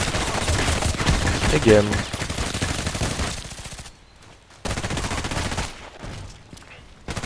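Rapid bursts of gunfire from the video game Contract Wars crack loud and dense, then break off into brief gaps before resuming, with someone speaking briefly.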